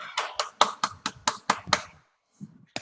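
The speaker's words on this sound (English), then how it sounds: "Give a big clap to him." A guest at an online lockdown health forum is welcomed with a run of about ten sharp, close hand claps in a steady rhythm, followed by a brief pause and a few soft sounds.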